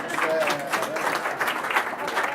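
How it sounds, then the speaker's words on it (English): Brief, scattered clapping from guests at a rehearsal dinner, fairly close and under murmuring voices, over a couple of seconds. "So give him a clap for that at least"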